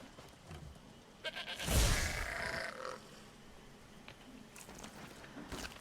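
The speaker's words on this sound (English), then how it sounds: "Is that a sheep?" A sheep in the Elder Scrolls Online video game bleats once, a short loud nasal call, over quiet game ambience with faint rustling.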